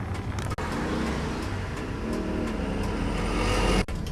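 Bus engine starting up again while stopped at an intersection in Kumamoto, Japan, giving a steady, fairly loud low rumble and drone that holds throughout, with traffic around and no talk.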